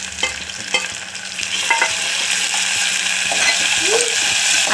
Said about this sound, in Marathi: आता कांदा टोमॅटो भाजून घ्यायचा.